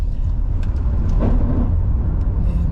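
A car on Michelin Primacy 5 premium comfort tyres speeds up to 50 km/h on a test drive in Thailand, giving a steady, loud low rumble of engine and road noise from inside the cabin, with no talking.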